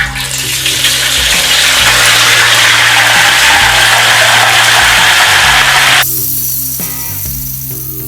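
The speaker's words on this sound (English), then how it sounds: "the final stage of the cooking process is to take your tempeh and to fry it" Tempeh frying in hot oil, a dense steady sizzling hiss that runs loud for several seconds, then drops to a softer crackle with lower hum underneath.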